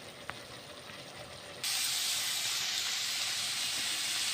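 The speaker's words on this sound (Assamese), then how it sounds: "এতিয়া মই লাওখিনি অলপ সময় হ'ল ভাজি থকা" Bottle gourd fries in a pan for a fish curry, a steady hiss that suddenly jumps to a loud, dense sizzle partway through and holds there.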